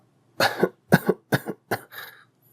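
An elderly woman coughs in four sharp, close bursts followed by a softer trailing cough, with short pauses between them.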